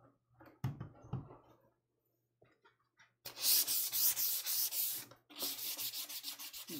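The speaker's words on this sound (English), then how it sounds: "I'm sanding the whole entire thing just to give it the smooth finish" Rough, rhythmic scraping of sandpaper on wooden furniture in repeated hand strokes, close up, after a few quiet knocks and handling sounds.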